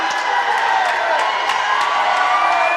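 A home basketball crowd at a men's college game roars steadily in a gym, sustained cheering and whoops with scattered shouts, loud and continuous throughout.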